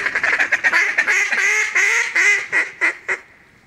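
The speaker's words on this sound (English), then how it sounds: "Wood ducks." Wood ducks calling on an Arkansas public-land duck hunt, a run of rapid, squealing calls rising and falling close by, loud and alone, with short gaps toward the end.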